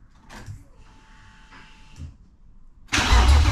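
A BMW M52B30 engine is cranked for its first start. Faint mechanical clatter and a thin whine lead into a sudden loud catch, and the engine then settles into a rough, close idle.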